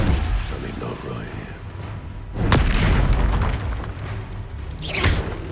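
A Confringo fire spell blasts in Hogwarts Legacy during a duel with Rookwood's fighters, a loud booming burst rising out of busy game noise and voices, followed by another sharp crackling blast near the end.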